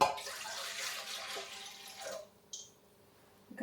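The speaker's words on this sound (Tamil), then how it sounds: "கை பொறுக்கிற அளவு சூட்டுன்னா தண்ணியை இதுக்கு நான் விடுவேன்." Warm water pours and splashes into a bowl for about two seconds, then stops, followed by a faint clink.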